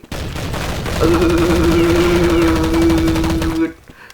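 Dense, continuous rapid gunfire in the video game Counter-Strike 1.6 rattles for several seconds, with a sustained tone running beneath it, then cuts off abruptly.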